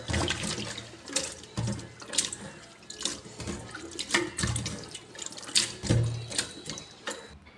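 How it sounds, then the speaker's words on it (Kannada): Dry fish rinsed by hand in water in Mangalore-style kitchen prep, close splashing and sloshing in repeated surges, no talk. "ಈಗ ಇದನ್ನು ವಾಶ್ ಮಾಡೋಣ. ಸ್ವಲ್ಪ ನೀರಲ್ಲಿ ಸ್ವಲ್ಪ ಒಂದು ಸಲ ವಾಶ್ ಮಾಡಿದರೆ ಸಾಕು."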